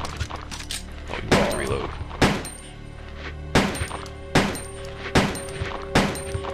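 Several sharp gunshots ring out at irregular intervals in the video game Resident Evil 2, each a loud thump with a short decay, while someone talks briefly between shots.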